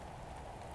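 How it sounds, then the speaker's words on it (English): Acid rain falls in Roblox Natural Disaster Survival as a faint, steady, even hiss of rainfall with no other sounds. "acid rain, a bit of a problem"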